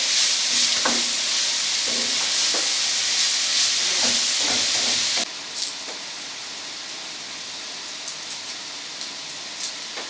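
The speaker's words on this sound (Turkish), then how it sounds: "Böyle güzelce burada bir soteleyeceğiz" Carrots sautéing in a pan in a village kitchen for a garlic yogurt meze, a steady loud sizzle with a few utensil taps, dropping to a quieter hiss midway.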